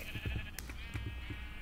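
Sheep in a video game bleating several times in quick succession against steady background game noise, fairly faint.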